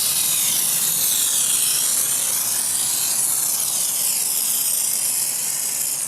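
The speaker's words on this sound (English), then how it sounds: "I applied some in my Mr. Sprayer pump foamer. I'm gonna foam this thing up, making sure I get a good lather." Steady, loud hiss of a Mr. Sprayer pump foamer spraying Diablo Wheel Gel onto the wheels of a car left unwashed for over a year, a continuous close-up spray that runs without a break and without talk.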